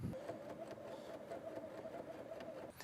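Sewing machine steadily stitching a line across a quilt, a continuous mechanical whir with a rapid needle rhythm running throughout at close range.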